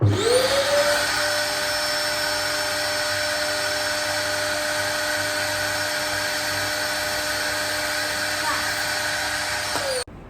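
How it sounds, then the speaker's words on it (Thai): A homemade vacuum cleaner built from a recycled plastic bucket with PVC pipe and flexible hose runs continuously, a loud close motor whine with steady high tonal hum that spins up at the start and cuts off at the end. "นี่ก็คือชิ้นงานสิ่งประดิษฐ์เครื่องดูดฝุ่นรีไซเคิลจากถังพลาสติก"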